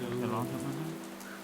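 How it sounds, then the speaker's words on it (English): Rain falling in a VRChat world on a gloomy day, a steady broadband patter of drops under a low droning tone, with faint voices murmuring in the background. "it's a terrible day for rain"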